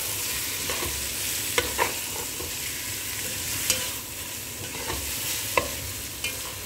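Rice being stirred in a frying pan while cooking Arabic rozbokhari, with a steady sizzle and occasional scraping spoon strokes, close up and without talk.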